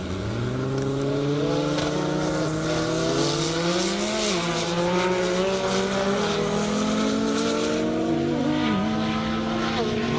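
English Racing GTR and orange Viper race cars accelerating flat out down a half-mile airstrip at over 200 mph, engines droning and rising steadily through the gears under continuous commentary.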